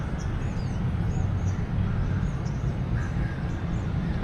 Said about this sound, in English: I've been hearing this, I think it's a bird. It sounds so cool.